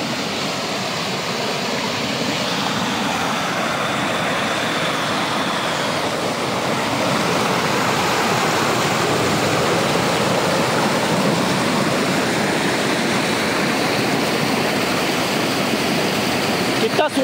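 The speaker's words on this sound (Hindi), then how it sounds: "बहुत ही सुंदर कलकलाती हुई एक छोटी सी नदी दिखाई दे रही है" A small babbling river spills over a waterfall near a temple at a training center, a loud, dense, unbroken rush of water close by, with faint traffic noise underneath.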